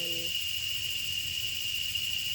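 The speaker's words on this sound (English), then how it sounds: "the cicadas are greeting us, enshrouding us, surrounding us" Cicadas in a jungle give a steady, high, unbroken drone that fills the whole short stretch, with a brief lower tone fading out at the start.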